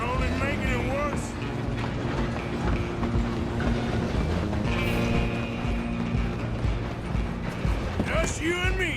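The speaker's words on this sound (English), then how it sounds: "I'm gonna ride ahead and stop the train" A moving train in the Red Dead Redemption 2 video game rumbles and clanks steadily throughout, with creaking metal and a brief whistle-like tone, heard under ongoing speech.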